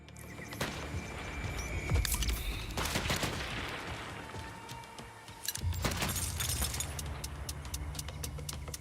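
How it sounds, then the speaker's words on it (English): A singularity grenade and gunfire in Borderlands 4: a long, swirling whoosh and rumble broken by sharp shots and impacts, with rapid gunfire rattling through and swelling again toward the end, no talk. "That's a really long grenade."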